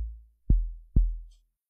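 Two deep, rounded log drum bass hits from FL Studio, programmed for an amapiano beat, land about half a second apart, each a punchy low thump with a short decaying tail and nothing else around them.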